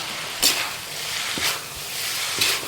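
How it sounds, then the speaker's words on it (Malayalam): A spatula stirs kothamara beans thoran with onion in a pan over a gentle sizzle, three short scraping strokes landing about a second apart, close and clear. "ഇത് നമുക്ക് നന്നായിട്ട് ഇളക്കി യോജിപ്പിക്കുക"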